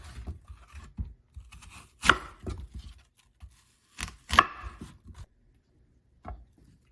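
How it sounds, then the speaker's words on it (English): A knife cuts an apple into small pieces on a board, giving sparse, close crunching chops with short pauses between them. "I like to start off by cutting the apple into quarters, and then I cut small from there."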